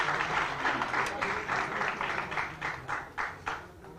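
Applause from an audience at a community gathering in Mumbai, steady clapping with rhythmic bursts, moderately distant and continuous for a few seconds.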